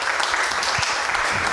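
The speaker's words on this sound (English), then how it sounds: "So may I have a really amazing applause" An audience at a hacker conference talk applauds, a dense, steady wash of clapping throughout the short stretch.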